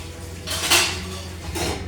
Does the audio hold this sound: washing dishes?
yes